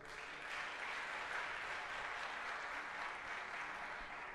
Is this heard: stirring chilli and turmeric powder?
no